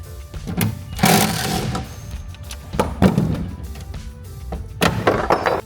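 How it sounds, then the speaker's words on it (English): An impact gun drives bolts off a Savage flatpak canopy on a BYD Shark ute, sounding in several loud rattling bursts separated by short pauses, close by. "then use the impact gun to get it off."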